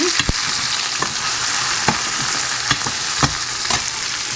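Onions sizzle in hot oil in a pan alongside garlic, a close, steady frying hiss punctuated by regular knocks and scrapes of a stirring spoon roughly every half second.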